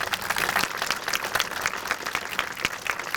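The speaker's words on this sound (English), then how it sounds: "How about one big round of applause?" A crowd claps at a school ceremony, a dense, steady round of applause with a few sharper individual claps standing out.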